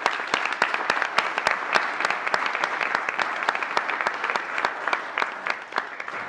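An audience claps for a speaker walking onstage at a morning talk, steady applause with many close sharp claps overlapping throughout, fairly loud and continuous with no voices.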